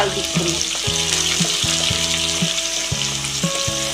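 Onions fry in oil in a pan for a prawn curry, with a loud, close, steady sizzle and crackle. A tonal background sound runs beneath it, and there is no talking.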